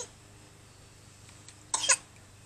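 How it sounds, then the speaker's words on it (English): A young boy at a water park gives one short, sharp cough burst, close and fairly loud, after a quiet stretch of low background hum. "He coughs and then he drinks more."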